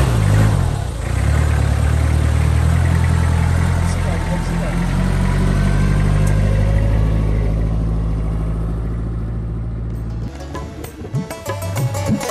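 A jeep engine runs loudly and steadily on a rough off-road mountain track in Neelum Valley, Azad Kashmir. The deep rumble dominates, then eases toward the end as sharper knocks and rattles break through.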